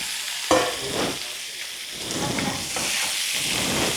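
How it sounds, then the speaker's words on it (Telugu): Country chicken dropped into a hot pan for natukodi bagara, a sudden hiss on contact swelling into steady crackling sizzle with stirring scrapes, close and fairly loud, no talk. "నేను ముందు చికెన్ వేసేస్తున్నా."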